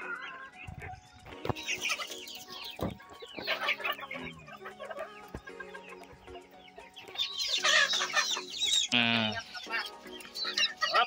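Native chickens clucking and squawking at feeding time, a busy close flock with overlapping calls that swell louder toward the end, while a person talks intermittently among them.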